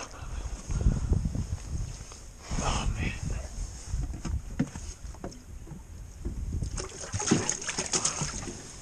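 Bass released one at a time from a boat into cold water give several splashes and sloshes amid hull and water noise, while people talk intermittently nearby.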